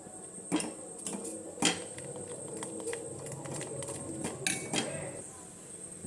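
A spoon scrapes and clinks against a pot while protein powder is stirred into ragi malt, with several sharp metallic knocks spread across a steady kitchen background.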